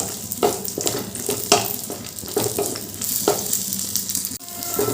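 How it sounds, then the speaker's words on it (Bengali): Cashews and raisins fry in hot ghee with a steady, moderate sizzle, punctuated by several sharp scrapes and taps of a spoon stirring the pan, without any talking. "ঘিটা গরম হয়ে গেছে এবার ওই কাজু কিশমিশগুলো একটু ভেজে নেব"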